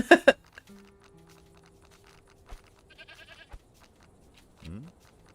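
Goats in the Mr. Prepper game give a few short bleats among sparse chewing and small clicks, fairly close but faint, with quiet stretches between.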